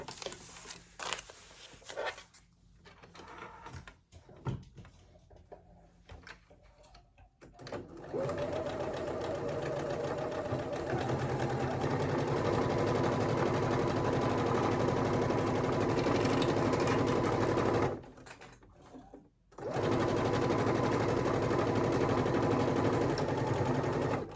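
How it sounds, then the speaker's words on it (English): A sewing machine stitches a halter maxi dress seam, first in short stop-start bursts, then in a long steady run with a brief pause before resuming, close and clear. "You're going to drop your needle and then turn and go back all the way on the other side. So let's get busy with the sewing."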